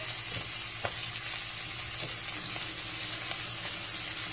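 Steak frying in a pan with butter and its own juices, a steady broad sizzle with faint crackles and a few soft clicks, fairly quiet and continuous with no talk.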